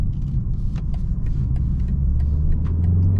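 A 2023 BMW 330i M Sport engine runs in sport mode from inside the cabin, a loud, steady low rumble that builds slightly toward the end, with faint clicks above and no talking.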